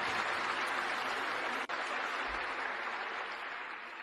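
Steady audience applause thanking Andy at the 2001 Berkshire Hathaway shareholders meeting, a large crowd clapping continuously and gradually fading slightly.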